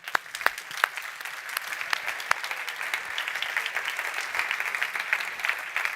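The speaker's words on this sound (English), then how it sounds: "I think they deserve a big round of applause." An audience at a startup kickoff event applauds the winners, a sustained, moderately distant wash of clapping with a few sharper individual claps standing out early on.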